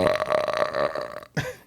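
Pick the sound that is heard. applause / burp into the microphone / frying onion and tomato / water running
burp into the microphone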